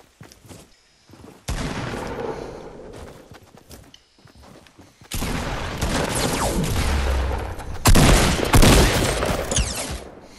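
Gunfire in Fortnite Battle Royale, scattered shots giving way to long, loud sustained bursts of rapid fire with clattering movement, close at hand and growing heavier toward the end.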